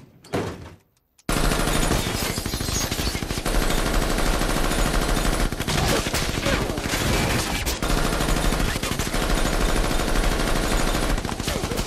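Sustained machine gun fire in an Arnold Schwarzenegger action movie, a loud dense rattle running continuously for about ten seconds after a brief quiet start, with a few short dips in the barrage.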